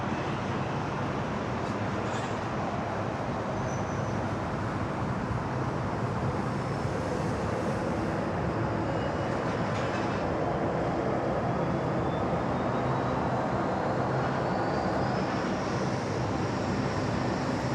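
All Nippon airliner arriving from Tokyo on final approach at Sydney Airport, a steady distant jet roar heard from the control tower, fairly faint and continuous with no talk.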